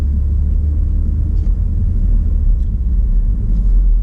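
A car driving through a small downtown in northern Wisconsin along US 2 gives a steady, loud, low engine and road rumble from inside the cabin, continuous and unbroken, with no talking.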